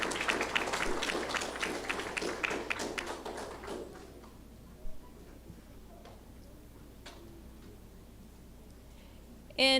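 Applause for fourth grade award winners at a school awards ceremony, a crowd clapping steadily and fairly loud for about four seconds before fading to a quiet room with a few scattered taps.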